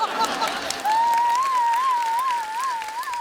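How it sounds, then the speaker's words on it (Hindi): Audience applause at a live stand-up comedy show, a brief burst of clapping under a steady tonal whine, fairly loud and continuous. "और आप क्या तालियां बजा रही हो?"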